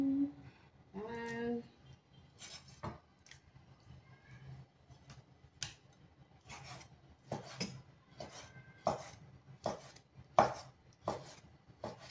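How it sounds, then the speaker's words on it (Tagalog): A knife cuts raw chicken on a board, giving a run of soft, irregular scraping and tapping strokes that quicken into sharper chops toward the end, close and fairly quiet. "Satisfying ang mag-cut ng chicken."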